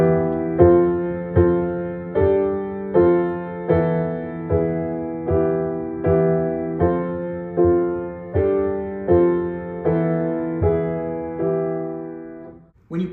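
Piano accompaniment chords for line 2 of a tune sound as a steady series of struck chords, each ringing and fading before the next in an even beat, clear and close with no talking.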